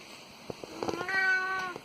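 A cat meows from inside a closet: a few short, faint chirps, then one longer, clear, drawn-out meow, heard alone in a quiet room.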